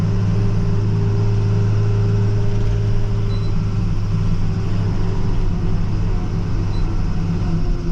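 A pickup truck drives along a snowy road during a snowstorm, its engine and tires producing a steady low cabin drone with a constant hum, unchanging and fairly loud throughout.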